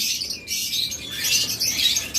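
A pair of black masked lovebirds gives shrill, rapid chirps and chatter, close and fairly loud, running almost continuously with short gaps.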